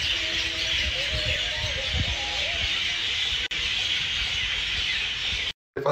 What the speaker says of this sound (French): Avec tout ce bruit, il y a plus qu'un million d'oiseaux.